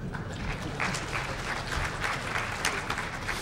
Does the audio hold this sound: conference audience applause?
yes